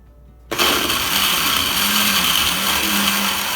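A kitchen blender whirs up a vanilla berry milkshake, switching on abruptly after a short quiet moment and then holding a loud, steady motor roar with a churning, grinding edge.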